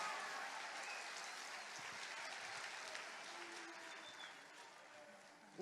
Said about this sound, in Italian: Fatevi un mega applauso, siete splendidi